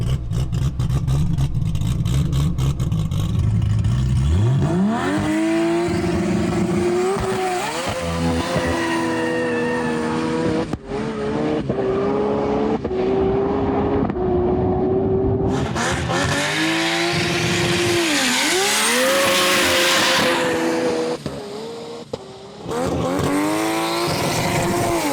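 A manual-transmission Nissan GT-R, an 8-second drag car, makes a loud, close runway pass, engine revving hard with rising pitch through repeated gear changes and brief tire squeal, roaring alone without talk.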